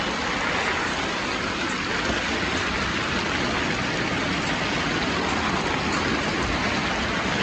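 Heavy rain pours down steadily and continuously, a dense, loud hiss of drops without pause.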